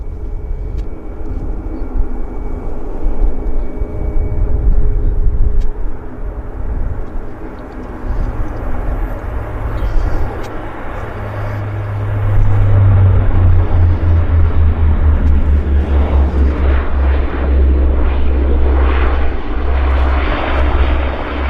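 A Saab turboprop of WestJet Link, operated by Pacific Coastal, at Vancouver Airport gives a loud, continuous propeller roar with a deep low rumble that swells midway and holds steady, with no voices.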